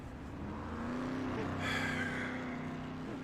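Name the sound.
dirt track race car driving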